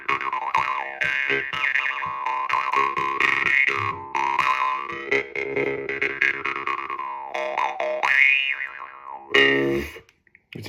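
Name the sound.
jaw harp (Lebbett drymba or Szilagyi doromb) being played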